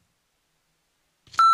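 A sustained censorship bleep tone, loud and steady, cuts in near the end after a short silence and a brief breathy onset, covering a cuss word in an interview.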